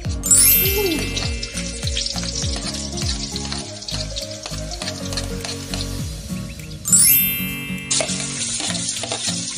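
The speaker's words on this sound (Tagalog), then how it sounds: "Pwede na natin siyang lagyan ng gisahin ng bawang." Garlic sautéing in hot cooking oil for a Filipino cabbage, bell pepper and pork stir-fry, a loud steady sizzle with stirring scrapes and clatter running throughout, flaring brighter twice.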